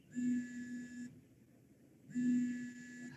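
A phone rings during a trading lesson, two bursts of electronic beeping about a second long separated by a short gap, quiet and thin against a room with no talking.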